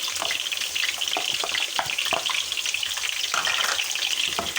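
Red pepper, green pepper and onion are added to chicken browning in a pan, giving a loud, close, continuous sizzle with scattered stirring scrapes and no voices.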